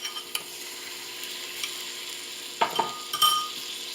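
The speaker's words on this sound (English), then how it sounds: "Give it a good stir." Diced tomatoes are stirred into a pot of vegan curry soup, a low simmering hiss under a few sharp spoon scrapes and clinks against the pot, with a louder clatter of stirring near the end.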